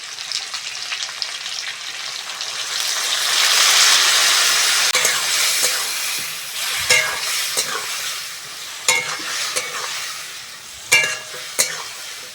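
Vegetables with turmeric, cumin and coriander powder fry in a pan for a cabbage curry, a loud hissing sizzle swelling then easing, punctuated by repeated scraping strokes and clanks of a spatula.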